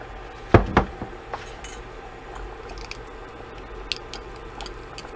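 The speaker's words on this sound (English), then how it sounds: "So I'm going to put in some of this ghee here." Metal utensils clink against a soup pot as ghee goes into a potato soup, two sharp knocks up front followed by softer, scattered taps and light scraping in a quiet kitchen.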